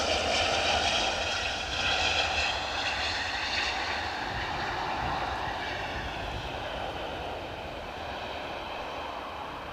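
A plane takes off from Edinburgh airport, its jet engine roar loud and steady, then slowly easing and fading as it climbs away into the distance.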